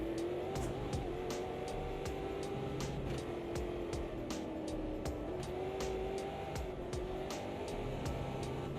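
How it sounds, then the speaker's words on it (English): A race car in the AMS2 racing game locks all four wheels and drifts into a braking zone, its engine note droning steadily while sharp rhythmic ticks and tire scrub run throughout. "All lock up on all 4 wheels, drifting it into the braking zone."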